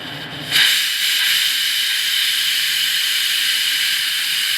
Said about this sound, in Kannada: ಇದನ್ನು ನೋಡಿ ವಿಷಲ್ ಬರ್ತಾಯಿದೆ